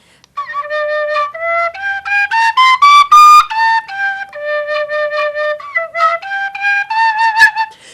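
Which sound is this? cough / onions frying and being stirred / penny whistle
penny whistle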